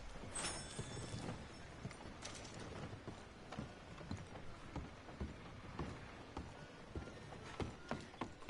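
Horse hooves clip-clop in the Red Dead cowboy game with Arthur, a soft, uneven run of clattering footfalls and creaks mixed with faint mechanical rattles at low level.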